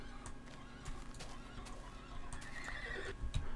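A horse neighs in Minecraft, a faint whinny late in the clip over soft background game ambience, with light hoof-like clops.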